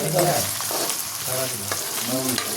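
Ginger garlic paste fries in a hot pan while crab is being cooked, making a loud, continuous sizzle close by, with faint voices underneath.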